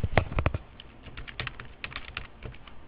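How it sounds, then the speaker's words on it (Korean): Rapid keystrokes on a computer keyboard while a customer name is entered into accounting software, arriving in quick clattering bursts separated by short pauses, close and clear with no talking. "등록하고자 하는 거래처 이름을 끝까지 타이핑합니다"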